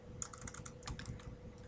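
Computer keyboard keys are pressed in a rapid run of light, quiet clicks over a faint steady hum.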